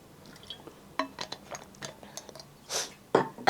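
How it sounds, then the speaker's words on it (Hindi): Water being drunk during a chemistry lesson, with close small gulps, sips and swallows and a few soft clinks from a bottle or glass, quiet and irregular, with no talking. "तब तक मैं थोड़ा पानी पी लेती हूँ"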